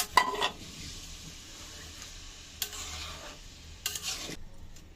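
A utensil scrapes and stirs papaya curry in a cooking pan just after water is added, with a few sharp scraping strokes over a faint, steady sizzle.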